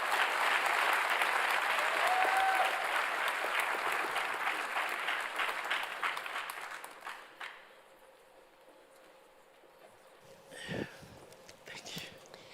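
Audience at a PhD graduation ceremony gives a loud sustained round of applause that gradually fades away, followed by a few shuffles and faint murmurs in the quieter hall.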